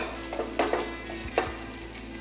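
Seer fish pieces frying in oil in a pan, a steady close sizzle broken by a few sharper pops and spatters as pieces are stirred or turned, with no voices.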